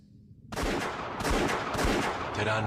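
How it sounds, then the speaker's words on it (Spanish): Several gunshots fired in rapid succession at close range, loud bursts overlapping one another with no talking. "Terán disparó varios tiros."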